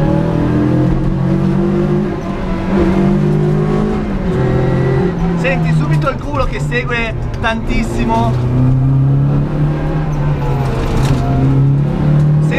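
Renault Clio 1.8 Group N Ragnotti replica with rollbar, heard from inside as the engine revs hard and climbs through gears on a road, loud and close, with someone talking over the engine.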